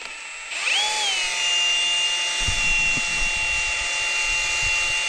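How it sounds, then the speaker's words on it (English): A power drill spins up to a steady high whine and keeps running, joined by a churning, gurgling rumble as the drill-powered pump starts moving liquid for a sprayer. "Got this fancy pump, this drill pump"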